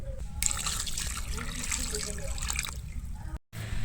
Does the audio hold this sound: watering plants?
yes